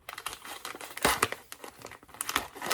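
Plastic packaging from an oven mitt and pot holder set crinkles and tears as it is opened with scissors, a close run of irregular crackles and rips with sharper bursts throughout.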